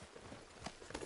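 Horse hooves clip-clop softly at a walking pace in Red Dead Redemption 2, a few faint, uneven footfalls over quiet outdoor ambience.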